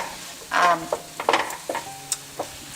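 Ingredients sizzle in a pan while tomato paste cooks in oil for a green bean rice dish. The frying hisses steadily up close, with several scraping stir sounds and clinks over it and no talking.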